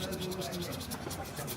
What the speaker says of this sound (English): I can hear the sanding.